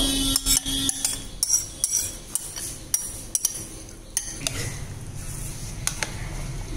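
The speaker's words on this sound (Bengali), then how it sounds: "এখন আমরা সবগুলি একসঙ্গে মিশিয়ে নেব।" Biryani marinade of chopped onion, black salt, cumin powder and sour yogurt mixed by hand in a bowl, with a run of close clinks, taps and soft wet squishes in an irregular rhythm, fairly loud with no talk.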